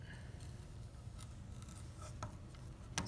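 A clay slab is cut by hand for a 4x6 inch ceramic box: a steady, close scraping and rasping drag with a few small clicks and ticks near the end, with no voices.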